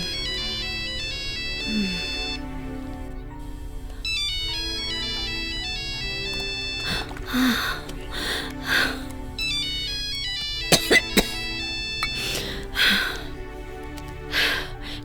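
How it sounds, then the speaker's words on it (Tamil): A mobile phone ringtone plays a repeating electronic melody for a long stretch, clear and close, while people talk and a few sharp sounds cut in. "அந்த ஃபோன் வேற அடிச்சுக்கிட்டே கிடக்கு"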